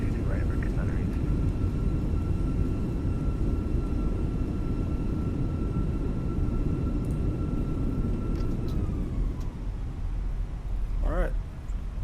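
Simulated Airbus A319 with IAE jet engines in Microsoft Flight Simulator, a steady, loud engine roar that holds constant for about nine seconds, then eases off slightly near the end.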